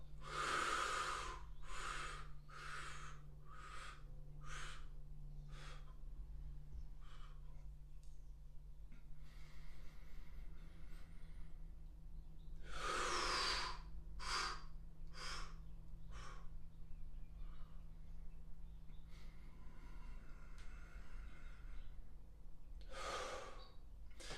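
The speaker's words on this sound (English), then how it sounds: "I'm going to exhale all my air out." Deep, forceful exhalations repeat in a slow rhythm during a spinal decompression breathing exercise, close and fairly quiet over a low steady hum.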